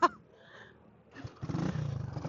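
A custom tracker motorcycle engine cranks briefly after a sharp click, then catches and settles into a steady, close, rapid chugging idle, with no talking.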